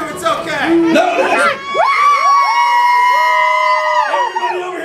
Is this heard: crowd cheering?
yes